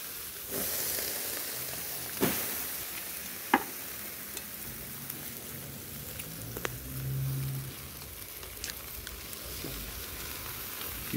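Fish roasting on a churrasco grill at a fish shop, a quiet steady sizzle and crackle with occasional sharp pops and clicks of turning, no one talking.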